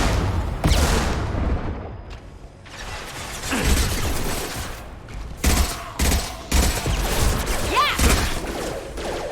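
Gunfire in Mass Effect 2 Legendary Edition, with repeated loud shots and bursts mixed with mechanical clatter, growing choppier and more rapid in the second half.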